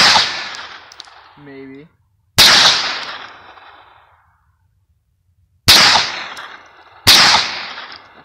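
Four sharp gunshots from a Hi-Point 9mm carbine striking a steel target at 25 yards, loud and close with ringing decays, spaced a few seconds apart at an outdoor range, with a brief spoken word between them.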